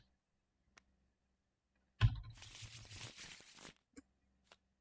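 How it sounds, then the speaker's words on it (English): A deck of cards shuffled during a tabletop playtest of Wardens of Wulvengrad: a sudden riffle burst lasting under two seconds, fairly close but quiet, followed by a few soft isolated taps against near silence. "Shuffle it in."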